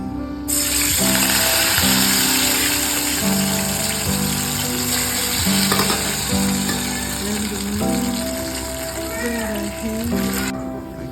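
Loud, steady sizzling of bitter gourd frying in hot oil, with bubbling and crackling throughout and a few clinks from stirring.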